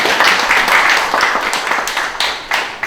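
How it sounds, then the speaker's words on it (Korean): An audience at a Korean political discussion forum gives a short burst of clapping that welcomes a lawmaker. The claps are close and fairly loud and fade slightly toward the end. "박수"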